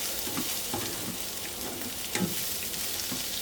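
Golden onions sizzle and fry steadily in a pan, with a bright, continuous crackle and a few soft stirring scrapes. There is no talking.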